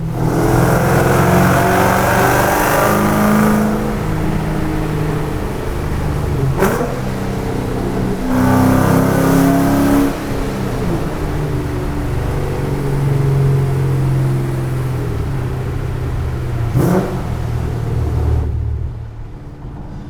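A Ford Shelby Mustang GT500 revs loudly inside a tunnel, its engine roaring and booming off the walls in sustained surges with a few sharp gear-change breaks, close and powerful throughout.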